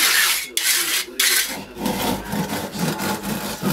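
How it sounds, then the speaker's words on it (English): A straightedge scrapes across wet concrete in a DIY pour as it is struck off, giving rough, gritty rasping strokes, a few separate passes and then a longer continuous scrape, close up with no talk. "So I'm just using this to strike off the top of the concrete."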